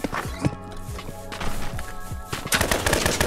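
Rapid gunfire from a gun in Roblox Rust, Trident Survival, with several sharp shots and quick bursts at close range, some spaced and some clustered, alongside footstep-like thumps.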